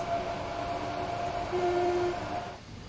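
Electric train motors on the Brighton Mainline in Train Sim World hum steadily with a rising whine, a continuous rolling rumble that fades slightly at the end.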